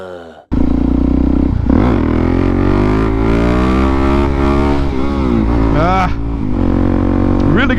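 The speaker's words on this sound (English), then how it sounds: "Really gotta work on them wheelies." A motorcycle engine bursts into loud, sustained revving during a wheelie attempt, its pitch climbing and wavering close by, with a few sharp throttle swells near the end.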